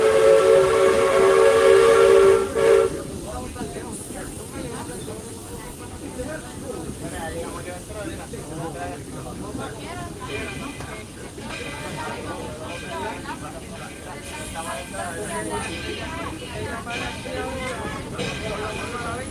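A steam train whistle at Magic Kingdom gives a loud sustained blast at the start, then chugging and hiss continue under an announcer's voice speaking throughout.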